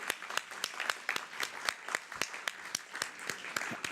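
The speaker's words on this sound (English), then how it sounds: "We might need one more clap." A handful of people clap at a healthcare panel forum to call attendees back into the room. The claps are faint, sharp and evenly spaced in a loose rhythm that continues throughout.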